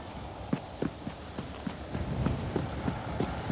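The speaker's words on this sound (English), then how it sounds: "Now, she's doing the fast canter." A horse's hooves strike the ground at a fast canter, a rhythmic series of soft, distinct thuds repeating in quick groups, moderately quiet and heard alone.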